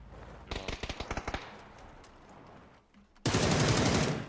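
Rapid automatic gunfire in a battle royale video game, a close burst of about ten sharp shots, then a quiet stretch, then a loud dense burst of firing to the end.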